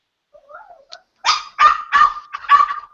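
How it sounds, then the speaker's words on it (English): A dog named Dobby barks indoors, four or five sharp, close barks in a quick run, preceded by a soft whine, loud and alone. "Dobby's barking at me."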